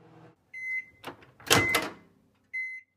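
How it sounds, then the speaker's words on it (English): A microwave oven cooking dog training treats on high hums in short tonal bursts, broken by a clunk and rattle in the middle. "Place the tray in the microwave. And cook on high for 3 to 4 minutes."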